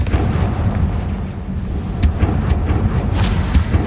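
A Confringo blasting spell explodes in Hogwarts Legacy, a loud, heavy rumbling boom with several sharp cracking bursts layered over a dense low roar.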